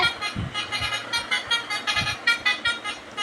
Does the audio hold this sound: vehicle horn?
yes